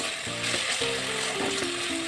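Meat tossed into a pan of frying curry with spices, giving a close, steady sizzle with brief stirring clatters and a faint tonal hum underneath.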